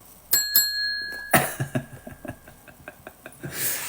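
A small hand bell rung twice with bright metallic dings, then a clatter of softer taps and knocks, fairly close.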